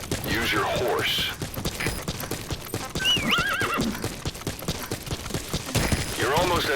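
In the open wilderness of Metal Gear Solid V, a horse's hooves clip-clop steadily while it neighs and whinnies more than once, amid game sounds and a speaking voice.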